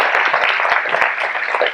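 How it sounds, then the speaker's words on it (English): Audience applause at a Wayne County bicentennial luncheon: dense, steady clapping from a room full of people, with a few sharper individual claps standing out, sustained and fairly loud throughout. "we really owe him a huge applause for this."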